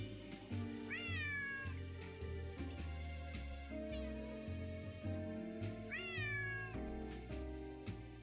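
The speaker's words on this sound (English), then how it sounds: "Alright, Lucy has heard the other cat sounds" A cat in a Nancy Drew mystery game meows twice, loud and close, with game music playing steadily underneath.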